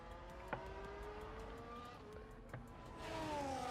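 Race cars crossing the line at Zandvoort in a racing video game, a steady engine drone with a couple of brief sharp passing bursts and rising engine pitch toward the end, no talking.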